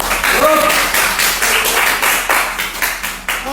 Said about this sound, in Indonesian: Oke, beri tepuk tangan untuk kelompok